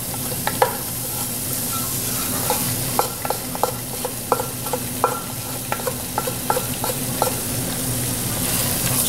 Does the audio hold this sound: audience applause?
no